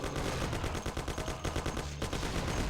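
Rapid gunfire in the Mafia video game, with a fast string of loud, evenly spaced shots. There is a brief pause, then another burst of firing.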